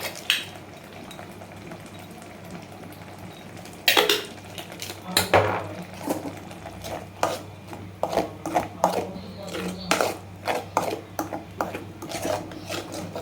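A spoon scraping and stirring chana masala ingredients in a pan, a series of close, irregular scrapes and clanks against metal, growing busier after a quiet start, with no talk.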